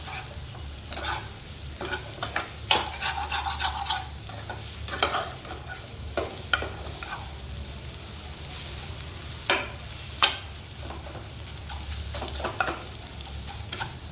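Egg rice made with leftover food is stirred in a hot pan, giving a soft continuous sizzle under repeated scraping and knocking strokes of a spatula, some of them sharp and close.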